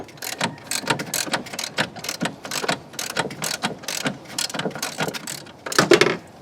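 A wrench ratchets off the last nut from a 1985 Camaro master cylinder, a rapid series of close, crisp clicking strokes in an uneven rhythm with short pauses, ending in a louder burst of clicks.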